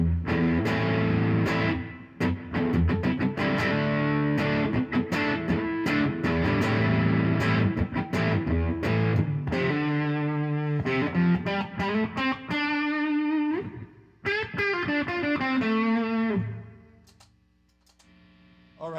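Electric guitar through a Nobles overdrive pedal plays crunchy chords and quick riffs with slides, ending on a ringing note that fades out.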